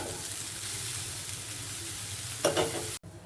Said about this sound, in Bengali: এরপর ভালোভাবে বাদামি কালার করে ভেজে নিতে হবে নাড়াচাড়া করে ভাজতে হবে ভালোভাবে